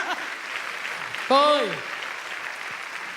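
Steady applause from a church congregation fills the space while a voice speaks briefly over it, the clapping holding at an even, moderate level throughout.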